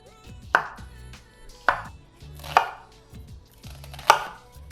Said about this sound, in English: as I cut my zucchini and squash, I'm gonna cut it in a little bit thicker pieces